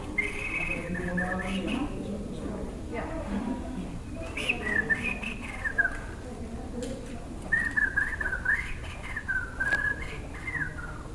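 Whistled language of the South American mountains, sliding whistled phrases in several bursts with pauses between, fairly close and clear over a low background murmur.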